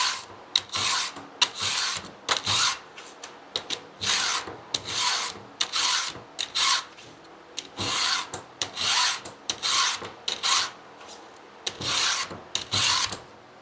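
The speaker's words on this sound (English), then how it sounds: "There's no reason to try to sharpen a chain with dull files." A chainsaw chain is sharpened with a hand file, giving crisp, close rasping strokes in short, repeated bursts with brief pauses between passes.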